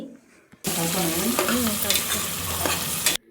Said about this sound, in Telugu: ఆనియన్స్ పచ్చిమిర్చి వేసుకొని మంచిగా ఫ్రై చేసుకోవాలి